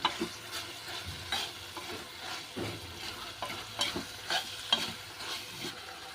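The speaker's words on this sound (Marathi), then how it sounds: "चवळी आता आपण छानपैकी परतून घेऊया" Cowpea vegetables sizzle in a hot pan while a spoon stirs and scrapes them in repeated close strokes, with no talking.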